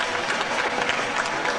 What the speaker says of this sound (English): I'd like everybody to give a big round of applause to Amy and Shane Bugby